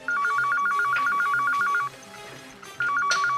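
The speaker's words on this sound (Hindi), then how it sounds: "ये लेकिन बेल तो बज रही है।" A telephone in a room rings with a loud, close electronic warble, a rapid repeating trill that pauses briefly and then starts again.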